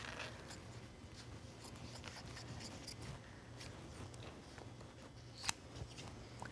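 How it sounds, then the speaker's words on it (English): Scissors cut fabric on the bias around an armhole on a dress form, heard as quiet repeated snipping and slicing strokes close to the microphone against a low background hum. "So I'm just cutting around."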